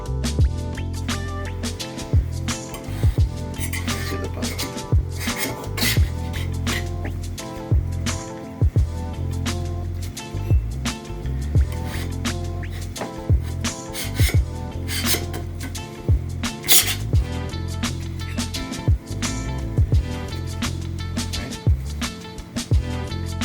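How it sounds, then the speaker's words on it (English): Scraper removing resin 3D printed models from the build plate of an Elegoo Saturn 4 printer: a steady, loud rasping scrape, close and continuous, with repeated sharp clicks and ticks throughout. "And now we can use a scraper to remove our models."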